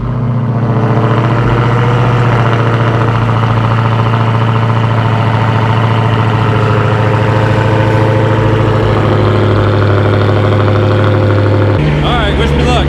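A Dodge Hellcat's engine sits at a loud, steady idle, a deep rumble that holds nearly unchanged before a sharp blip near the end as the revs shift.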